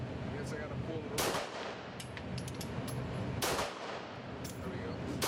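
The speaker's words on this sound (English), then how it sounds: "Shooting like a madman." AR rifle with a Pyramid trigger and burnt bronze build firing outdoors, two loud, sharp reports with ringing tails a couple of seconds apart, plus fainter cracks nearby.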